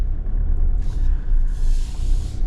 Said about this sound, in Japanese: ガラガラガラガラっていう、ディーゼルなりの音はしますね